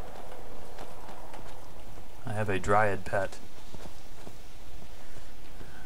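Hooves of a horse ridden through the Skyrim video game world clop steadily in the background, while someone talks over them.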